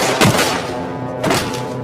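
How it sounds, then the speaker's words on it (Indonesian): Gunfire in a cartel film scene: two heavy, muffled shots about a second apart, each a dull thump set into a dense, noisy soundtrack. "Kate tidak terluka karena tembakan Alejandro mengenai rompi anti pelurunya"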